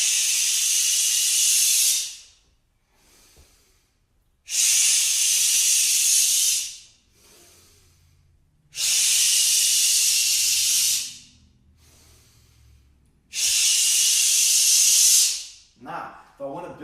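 Four forceful, sharp hissing exhales like a drawn-out shh in a qigong breathing exercise, each lasting about two seconds with quiet gaps of breathing between.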